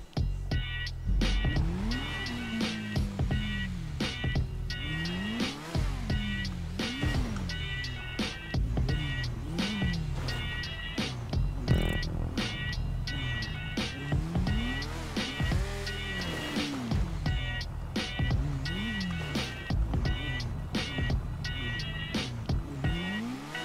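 A motorbike in GTA 5 revs and accelerates again and again, its whining engine pitch sweeping up and dropping in repeated surges over a steady drone.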